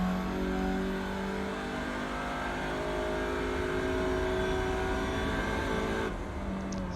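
Audi TCR race car in iRacing at Brands Hatch GP, engine droning steadily at high revs with a smooth sustained tone, close and continuous before easing off near the end.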